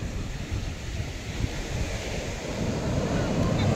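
Surf washing onto Golgibaga beach in South Goa, a steady broadband roar of waves with wind buffeting the microphone, building slightly louder toward the end, with no voices.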